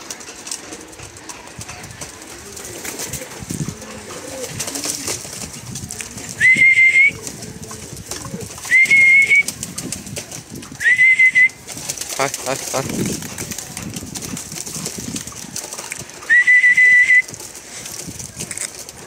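Pigeons cooing and fluttering nearby, with four short high whistle-like calls spaced through the clip against a background of outdoor rustling.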